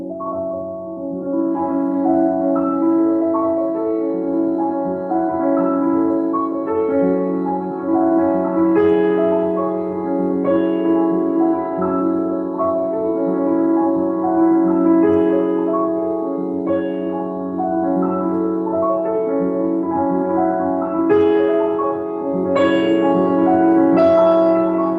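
Piano playing a Ravel passage with the middle voice accented, sustained layered chords and a singing inner line, steady and resonant without talk.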